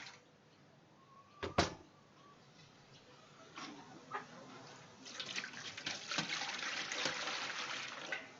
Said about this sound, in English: get some water in.